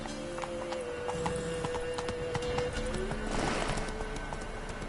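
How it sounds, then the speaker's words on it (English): In The Witcher 3 video game, a horse's hooves clip-clop in a quick galloping rhythm, with a whinny partway through and scattered game sounds behind, moderately loud. "Whoa there, Roach"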